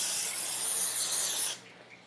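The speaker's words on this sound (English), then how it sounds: "you're gonna shake it up, and you're gonna spray it." Cooking spray is sprayed onto a pan, a close, loud continuous hiss lasting about a second and a half before cutting off sharply, leaving a faint tail.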